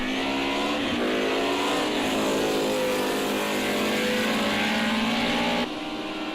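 A BMW E30 M3 race car braking hard into a chicane on a circuit: a loud, steady engine drone whose pitch drops and shifts through downshifts, heard close in-car, ending in an abrupt cut.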